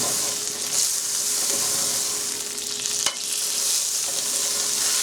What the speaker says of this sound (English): we're going to melt this butter on down